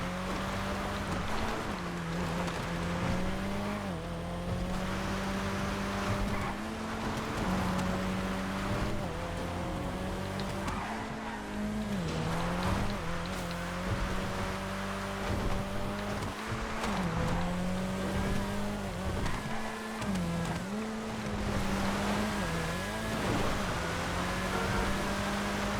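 An LG Retro Rally car engine races in the GTA FiveM video game, a steady, buzzing drone with revs that rise and dip during gear shifts and cornering, continuous and fairly close for the whole lap.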